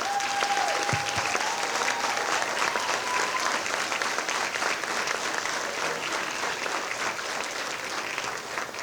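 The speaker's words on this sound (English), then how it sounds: "I'd like to give them a round of applause" Sustained applause from an audience honoring military veterans at a school alumni association induction ceremony, dense steady clapping filling the room throughout, with a brief tone near the start.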